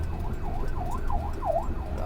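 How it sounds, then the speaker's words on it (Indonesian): An ambulance siren wails in a repeating up-and-down pattern, fairly close and loud, over the low rumble of traffic in a total jam on a flooded road between Semarang and Demak. "Oh ini ada ambulan."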